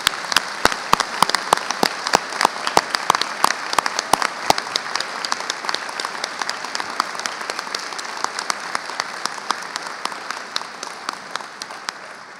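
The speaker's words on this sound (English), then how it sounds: "giving you one further great round of applause for that great achievement" An assembly audience at a graduation awards ceremony applauds the graduates: a full, steady round of clapping with sharp individual claps standing out early, gradually thinning toward the end.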